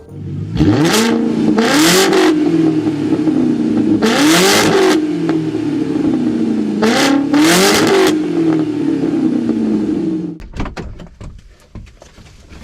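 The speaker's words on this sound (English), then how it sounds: "This is a Passat with 8 cylinders" A Volkswagen Passat's W8 eight-cylinder engine revs hard several times in a row, loud and close, the pitch rising and falling with each burst before it settles and cuts off.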